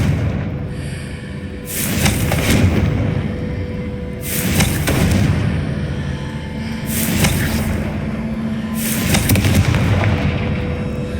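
Blasting-spell explosions in Hogwarts Legacy, four loud, broad booming bursts spaced a couple of seconds apart over continuous game background noise, each swelling and rumbling before fading.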